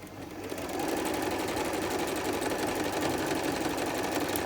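A sewing machine stitches fabric for a sundress made from an old bedskirt, its rapid steady mechanical whir starting after a brief moment and running loud and continuous to the end.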